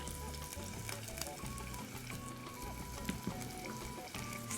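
Crushed garlic stirred and fried in a pan for a vegan Brazilian moqueca, a steady close sizzle with scraping stir clatter and small pops throughout, no talking.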